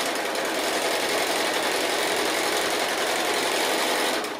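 A sewing machine stitches a quarter-inch seam around a Christmas stocking lining, giving a loud, steady, continuous motor whir that runs nearly unbroken before stopping at the end.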